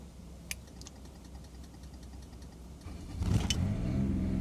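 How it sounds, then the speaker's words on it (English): A motorhome engine starts after a few quiet clicks, then cranks and catches into a low rumbling idle that swells louder, heard fairly near with no talk. "And it starts the engine."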